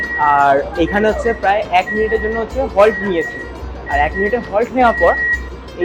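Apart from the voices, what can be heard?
warning beep before AC local train doors close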